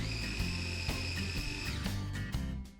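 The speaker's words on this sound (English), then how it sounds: "put some stale bread into a food processor. And pulse it until it looks like the right texture" A food processor pulses stale bread into breadcrumbs, its motor a faint, steady whirring hum broken by a few brief stops and restarts.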